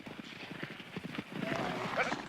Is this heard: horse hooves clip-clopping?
yes